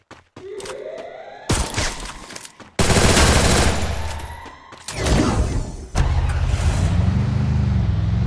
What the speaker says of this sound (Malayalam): അങ്ങോട്ട് വെടിയൊക്കെ വെച്ച് കേൾക്കുന്നുണ്ട്